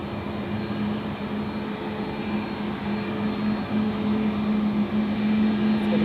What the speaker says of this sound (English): A330-300 to Istanbul.